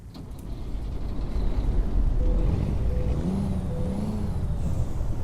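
A simulated International 9800 truck with a Cat C15 engine rumbles steadily after starting, a loud low diesel drone with a rising whine partway through, heard alone without talk.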